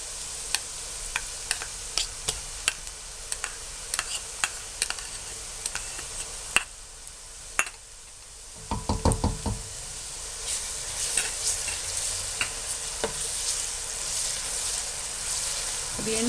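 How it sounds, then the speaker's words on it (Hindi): Garlic tossed into hot oil with already fried onions sizzles softly while a spoon scrapes and clicks against the pan in sharp ticks, a brief louder crackle bursting up midway. "प्याज फ्राई हो चुके हैं। अब इसमें लहसुन डालते हैं।"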